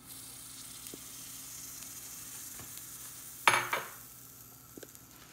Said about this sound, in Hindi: प्याज जो मैंने ग्राइंड करके रखी हुई थी उसको भूनेंगे